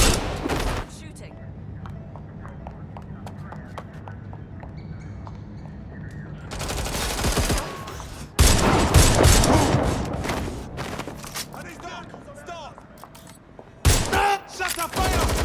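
Gunfire in the video game Watch Dogs Legion: a quiet stretch gives way to loud bursts of rapid shots around the middle, then another sharp volley near the end, with brief game sounds in between.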